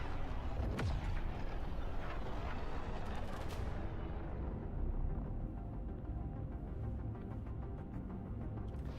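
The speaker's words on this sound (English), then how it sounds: "We'll have to barrage it with gunfire to force it to a stop." Heavy gunfire pours onto a freighter in a sci-fi space video game, a dense, continuous roar of booming shots and blasts that fills the whole stretch, loud and unbroken, with no voices.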